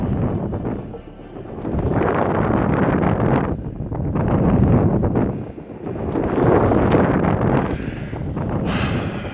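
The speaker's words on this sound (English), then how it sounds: "The wind picked up significantly." Strong wind blows across a sand dune in Amargosa Valley, Nevada, roaring loudly into the microphone in long rising and falling gusts that fill the whole stretch.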